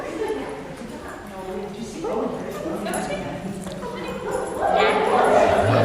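Dogs on a training walk, with a few scattered barks and yips over the sound of footsteps and someone talking, growing a little louder toward the end.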